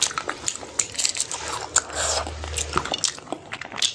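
Fish ball being bitten and chewed up close during a Hindi eating show, giving soft wet squishy chewing and biting sounds at a steady close-mic rhythm, with no talking over it.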